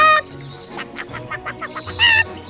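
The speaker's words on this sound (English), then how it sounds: "A hen, and she's got all the food." Cartoon hen clucking in bursts, with a sharp squawk at the start and another near the end framing a run of softer, rhythmic clucks up close.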